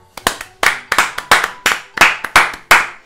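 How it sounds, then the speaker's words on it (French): Hand clapping, roughly a dozen sharp claps in an uneven rhythm, close and fairly loud, with no voices. "Je m'applaudis moi-même"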